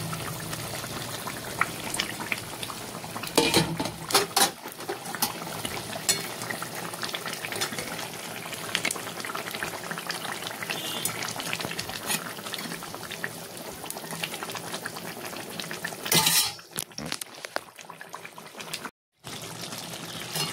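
Boal fish heads cook in boiling water in a pot, a steady bubbling and simmering hiss with a few louder clatters of stirring or handling.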